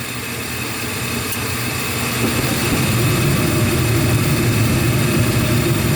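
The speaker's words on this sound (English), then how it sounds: "That's the induction motor." A home gas furnace's induction motor spins up as the igniter glows and the burner lights, in a unit suspected of a cracked heat exchanger. A loud, steady low hum and whir builds slightly and holds, with no speech.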